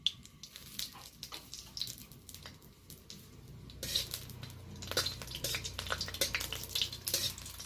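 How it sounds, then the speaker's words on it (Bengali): Dried red chilies fry in a pan for an elephant foot yam and prawn bhorta, with a soft steady sizzle under scattered clinks and scrapes of stirring. "প্রথমত আমি লঙ্কা ভেজে নেব।"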